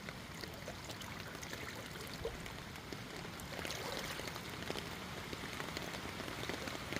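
Steady typhoon rain from Typhoon Carina pouring down in Cainta, Philippines, a dense hiss of drops hitting surfaces with trickling water, growing slightly heavier midway; no talking.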